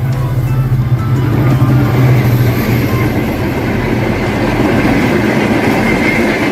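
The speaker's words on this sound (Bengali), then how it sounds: "বনলতা এক্সপ্রেস ট্রেনটি ইন্দোনেশিয়া থেকে ইম্পোর্ট করা হয়েছে" The Banalata Express, a nonstop passenger train with coaches imported from Indonesia, runs at speed with a loud, steady rumble and rattle of wheels on track that carries on throughout.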